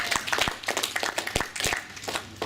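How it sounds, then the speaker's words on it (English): Audience in a lecture hall giving a round of applause, a short burst of dense, close hand clapping that holds steady before tapering slightly. "Give him a round of applause"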